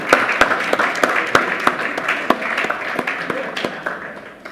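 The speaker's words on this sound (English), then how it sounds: "can we please give them another powerful round of applause?" Scattered, fairly sparse clapping from a conference audience for a tax justice panel, individual sharp claps standing out in an uneven rhythm that slowly thins toward the end.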